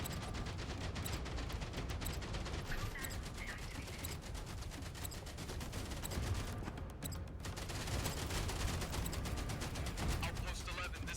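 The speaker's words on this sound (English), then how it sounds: "105mm artillery. Weird, this one has 5 shots." 105mm artillery and heavy gunfire in the video game Outpost: Infinity Siege, a dense continuous barrage of rapid reports with low booming weight, steady and moderately loud throughout.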